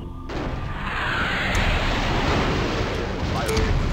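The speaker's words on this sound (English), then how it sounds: "Missile strikes." Missile strikes explode in MechCommander as a sustained roaring barrage of blasts, loud and continuous, with a rising rumble that swells after the first moments.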